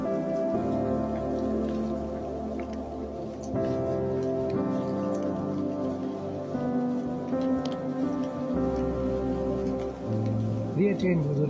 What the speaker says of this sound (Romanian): Bineînțeles, ploaie.